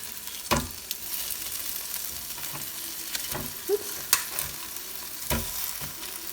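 Tongs clack and scrape as food is turned over in a Cosori air fryer basket, a few sharp metallic knocks over a steady low sizzling hiss, close and alone without talk.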